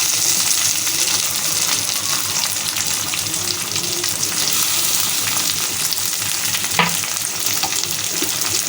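Tomatoes and onions fry loudly in a pan for a hilsa fish curry, a dense, steady close-up sizzle with faint stirring scrapes and one small clink.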